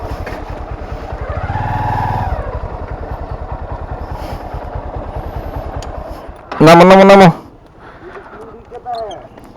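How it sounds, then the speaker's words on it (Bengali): A motorcycle idles at a parking area by a mini zoo in Savar, its engine putting out a steady close-up chug with a short rev early on, then a loud horn-like blast and a quieter patch, while people talk nearby. "আমরা তাহলে মোটর সাইকেল এখানে রাখবো"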